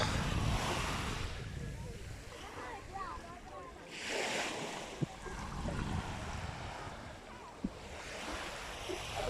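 Waves wash onto Xi beach in slow, rolling surges, with wind buffeting the microphone and faint voices in the background.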